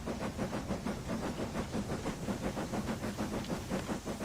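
A steady, rhythmic chuffing and hissing of an LMS Black Five steam locomotive in Train Simulator 2021 runs continuously at moderate volume.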